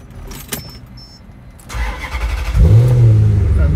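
A Maserati GranSport fitted with an aftermarket Larini exhaust cranks and fires up after a few soft clicks and chimes, then settles into a loud, deep, rumbling idle that swells as the engine revs close by.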